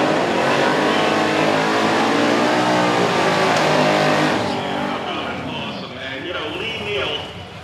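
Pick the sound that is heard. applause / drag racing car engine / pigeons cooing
drag racing car engine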